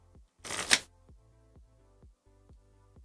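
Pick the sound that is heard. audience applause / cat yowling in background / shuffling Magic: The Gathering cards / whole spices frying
shuffling Magic: The Gathering cards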